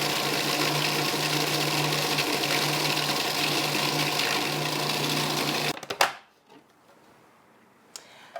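A blender whirs steadily and loudly through basil pesto ingredients for several seconds, then cuts off abruptly, leaving near silence with a brief clatter and a small knock toward the end.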